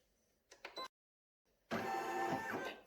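An embroidery machine stitching a simple straight seam, a few short mechanical bursts, a pause, then a louder continuous whirring run.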